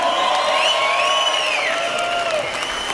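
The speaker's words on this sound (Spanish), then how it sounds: "Un aplauso de todo corazón a esas mujeres que nos acompañan en estos días de reventón" Crowd cheering and shouting with applause at a live punk concert, a continuous loud roar of voices with whoops rising and falling over about three seconds.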